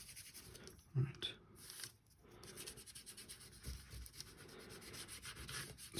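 Soft, steady rubbing of a spoon burnishing paper by hand over an inked block for a second print layer, a continuous close scraping texture with a few slightly louder strokes.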